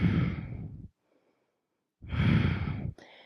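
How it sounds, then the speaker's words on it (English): Two slow, deep breaths during a yoga pose, each a soft, airy exhale, separated by a short pause, close and fairly quiet with no talking. "2 more breaths."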